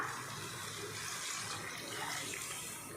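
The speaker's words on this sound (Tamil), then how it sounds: "இப்போ இதில் தண்ணி சேர்த்துக்கலாம்." Water is poured steadily into mutton fat curry with drumstick and eggplant in a cooking pot, a continuous splashing, gushing pour that stays fairly even for a few seconds, close by.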